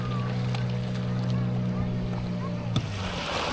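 Small passenger boat running toward Saavedra harbour in Chile, its motor a steady low drone throughout with water and wind noise, and a brief knock near the end.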